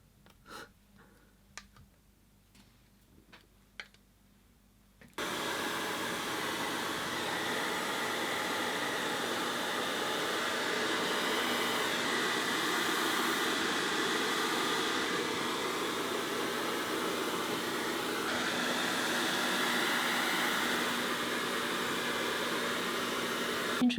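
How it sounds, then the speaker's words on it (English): A hair dryer switches on after a few quiet seconds of faint clicks, then blows on poured fluid-art paint with a steady, loud, close whooshing hum that continues to the end. "using a hairdryer with a pour deeper yellow"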